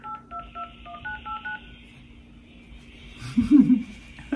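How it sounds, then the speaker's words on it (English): Touch-tone telephone keypad beeps entering a date of birth on an automated vaccine booking phone line, a quick run of separate near tones followed by a brief murmur of voice. "Please say your date of birth or enter it on your keypad using 2 digits for the month, 2 digits for the day, and 4 digits for the year."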